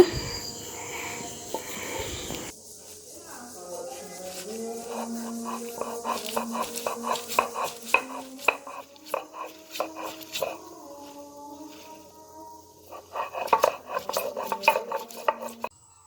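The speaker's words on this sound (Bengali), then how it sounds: "আর এখন হচ্ছে শাকগুলো বেটে নিব" Thankuni leafy greens ground by hand for fritters, a steady rasping, scraping rub with clinking strikes and rhythmic strokes, close by, with background music and faint voices underneath.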